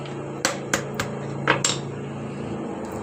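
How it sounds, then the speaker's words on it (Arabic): A hammer cracking dates in a home kitchen, a few sharp separate knocks spaced irregularly over about a second, close and fairly quiet over a steady background hum. "اي شاكوش، مش شرط يعني شاكوش المطبخ بتاعك، اي حاجه موجوده عندك ممكن تكسري بيها اهو"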